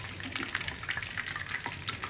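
Chicken lollipops deep-frying in hot oil, giving a steady, close crackling sizzle with small popping bursts throughout and no talking.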